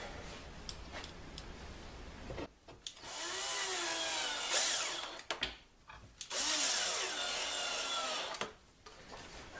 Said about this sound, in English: I can now screw it on.